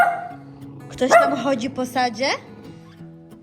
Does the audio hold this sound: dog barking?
yes